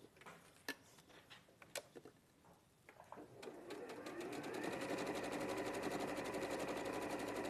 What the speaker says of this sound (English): What sewing machine is being used, please?